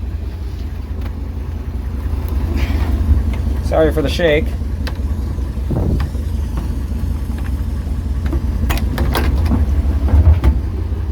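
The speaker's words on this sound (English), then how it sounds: "Truck's running." A 1954 International pickup truck's engine runs at a steady idle, a loud continuous low rumble heard close up with some wind buffeting, while someone speaks briefly over it.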